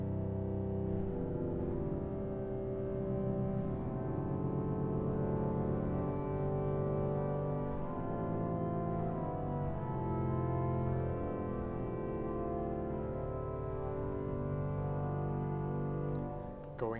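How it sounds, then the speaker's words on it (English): A pipe organ sounds its 16-foot viola major string stop in a concert hall, a sustained, deep, reedy string tone with chords changing slowly, loud and continuous for the whole stretch. "Then we've got an amazing 16-foot string voice called a viola major"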